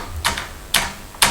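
Three crisp key clicks on a computer keyboard, evenly spaced about half a second apart, close and clear with nothing else over them.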